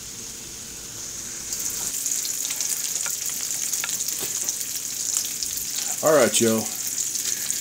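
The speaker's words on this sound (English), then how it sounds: "I just got this bacon on here just to start out with" A pound of bacon fries in a pan with a steady, close, crackling sizzle that continues throughout, and a voice speaks briefly near the end.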